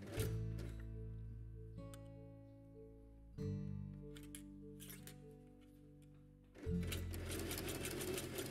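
A sewing machine stitches around the edges of fabric quiet book pages in three separate runs of rapid whirring, with brief pauses between them, fairly faint and without speech.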